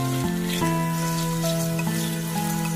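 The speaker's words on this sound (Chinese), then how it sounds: "炒香之后把洋葱也加进来翻炒，翻炒出洋葱的香味儿" Onions stir-fried in a wok with soybean paste, giving a steady, close sizzle with occasional stirring under soft background music.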